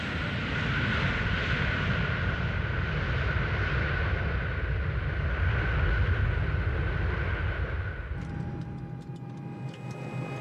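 A Boeing 747 airliner in flight gives a continuous, loud jet engine roar with a steady whining tone that shifts and softens near the end, heard alone.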